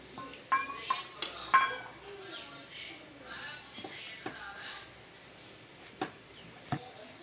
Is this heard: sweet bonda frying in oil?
yes